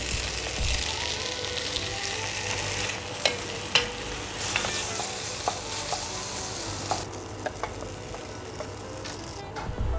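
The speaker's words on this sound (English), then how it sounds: "let's start browning the meat" Meat browns in about a tablespoon of oil in a Dutch oven over medium-high heat for scouse, giving a steady, close sizzle with scattered pops and clicks of stirring throughout.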